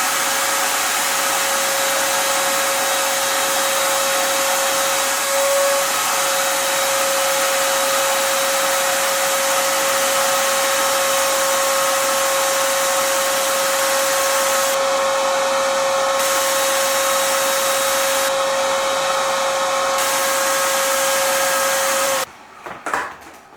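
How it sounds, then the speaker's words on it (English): A vacuum cleaner runs steadily and loudly in an engine build shop for a 5.7L HEMI, a constant whine with brief shifts in tone, then cuts off with a few clunks at the end. "Vacuum it."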